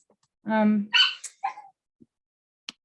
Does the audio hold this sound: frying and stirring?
no